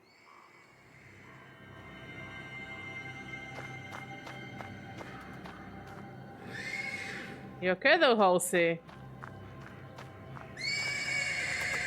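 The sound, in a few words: horse neighing in the stables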